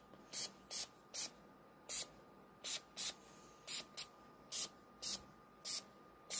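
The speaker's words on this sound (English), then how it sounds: "So now we do a spritz of rubbing alcohol." A spray bottle mists rubbing alcohol onto freshly made Hungarian paprika soap in about a dozen short, quiet hissing spritzes, spaced irregularly over a few seconds against a near-silent background.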